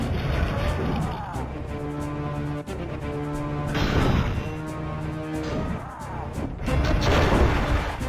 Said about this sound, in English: He won't stop shooting.